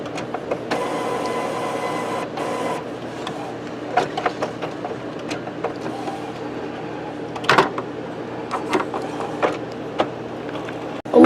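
An Epson printer with a continuous ink system runs a printhead cleaning cycle, giving a steady mechanical whir with clicks and clunks of moving parts, ending in a louder clunk.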